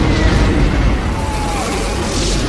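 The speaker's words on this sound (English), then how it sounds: "And there goes the missiles." Missiles launch and explode in a Stargate Atlantis space battle, a loud, dense rumbling blast that fills the whole moment and holds steady without letup.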